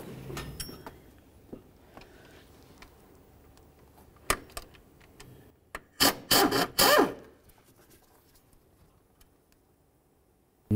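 Metallic ratchet and wrench work on an 8mm bolt under the hood of a 2006-10 Ford Explorer during water pump replacement: scattered faint clicks, then a loud burst of rapid ratcheting around the middle, with quiet pauses between.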